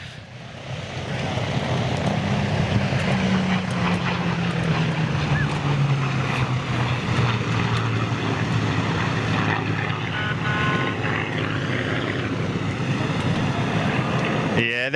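A propeller fighter aircraft of the Battle of Britain era performs a flying display, its engine droning steadily and shifting in pitch as it passes, with people talking nearby throughout.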